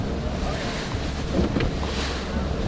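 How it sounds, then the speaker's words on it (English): A steady wind roars across the microphone while a kayak rides rough sea off Newfoundland. The rushing gusts and water noise are continuous and close, with no talk. "The wind just came up."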